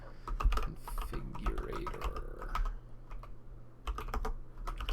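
Typing on a Boardsource Mk 65 mechanical keyboard in space grey, with quick bursts of close clacking keystrokes separated by short pauses, and someone briefly speaking between them.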